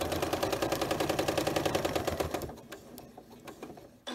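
A sewing machine with a walking foot stitches a quilt in a steady, fast, rhythmic chatter for about two and a half seconds, then stops, leaving faint clicks and handling noises close by.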